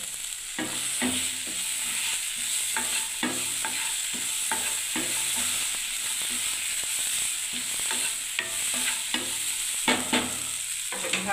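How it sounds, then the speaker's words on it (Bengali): A spoon stirs semolina vermicelli with peas frying in a pan, a steady sizzle underneath with repeated scraping strokes throughout. "এই দেখুন বন্ধুরা, এখন আমি নাড়ছি"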